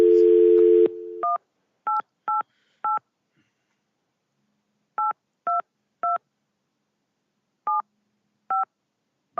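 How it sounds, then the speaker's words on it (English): A conference phone line goes through a reset: a steady dial tone, then a run of short, crisp DTMF keypad tones that come singly and in pairs with gaps between them. The tones are clear and close, with no voices over them. "we're about to reset the phone line, so you may hear some noise"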